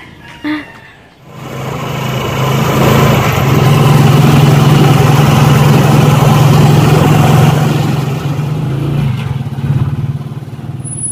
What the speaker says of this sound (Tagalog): Magda-tricycle lang ako.